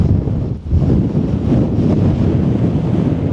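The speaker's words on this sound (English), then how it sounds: "there's a fair decent wind, but it's holding steady" Strong wind blows around a Nortent Ly 1 tent at a wild camping spot, a loud, steady roar that buffets the microphone with only brief dips and no talking.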